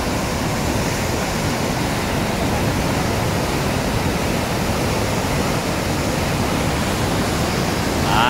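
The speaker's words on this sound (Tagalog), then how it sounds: "Nagbukas mga idol yung dam." Water pours from an opened dam in a loud, steady roar of rushing flow, broadband and unbroken from start to finish, with no voices.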